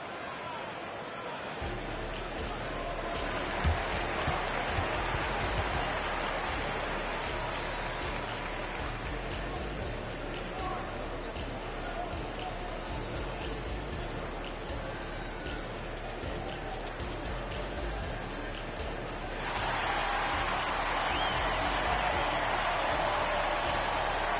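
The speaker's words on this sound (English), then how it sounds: "Hostile crowd, but these guys are blocking out the noise" Arena crowd noise in the NBA 2K24 basketball video game, a constant roaring wash of cheering and applause that swells louder toward the end.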